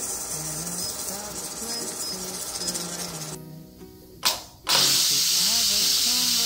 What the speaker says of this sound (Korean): 2-3분 뒤에 추를 기울여서 증기를 빼줬어요.